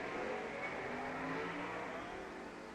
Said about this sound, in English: The old car leaves first by a half a bulbish.